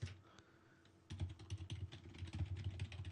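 Keys on a computer keyboard clatter in a quick, uneven run of soft taps, faint and close, with a short pause before the typing picks up again.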